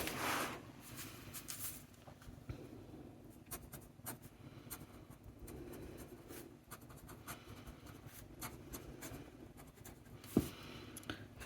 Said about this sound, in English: Here is a writing sample from the Ultra Ogiva.